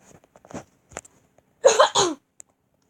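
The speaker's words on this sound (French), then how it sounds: "Mais je suis obligée de tousser." A few faint throat noises lead into a strong, close double cough, followed by a brief small sound; otherwise quiet.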